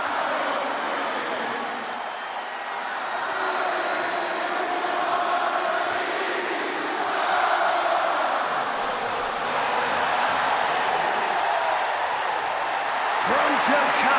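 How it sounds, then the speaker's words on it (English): Arena crowd ovation for CM Punk in WWE 2K26, his hometown Chicago crowd: a dense, loud, sustained roar of cheering that swells and ebbs, with a commentator talking over it. "Just listen to this ovation for the Second City Saint"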